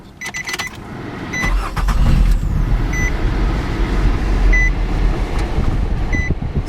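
A 2002 Nissan Altima with a misfire and bad idle cranks briefly and starts, then settles into a rough, fairly loud idle with a low uneven rumble and occasional faint beeps.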